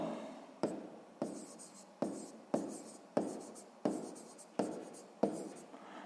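Pen writing by hand on paper while working a grade 6 math exercise: about nine regular scratchy strokes, each a sharp onset fading off, close and fairly quiet, with no voices.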